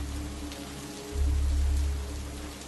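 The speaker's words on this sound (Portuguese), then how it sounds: "As gotas de chuva batiam ferozmente no para-brisa, obscurecendo ainda mais minha visão limitada pela escuridão." Heavy rain beating on a truck windshield at night on a deserted road; a dense, constant close patter with a low rumble that swells for a moment midway.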